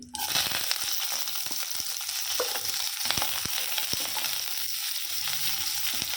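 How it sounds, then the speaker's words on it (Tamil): Steady hiss of onions frying in hot oil, dense crackling sizzle throughout with a few sharp spatula scrapes and clicks, close and fairly loud, no voices. "நல்லா பொன்னிறமாகிற வரைக்கும் வதக்கணும்"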